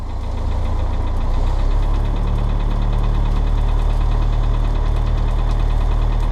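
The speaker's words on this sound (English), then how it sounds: "Don't rev it too much because it's cold and I've just started it." A cold bug-out vehicle engine idles just after starting, a loud, steady low rumble with a knocking pulse running throughout, close by with no talk.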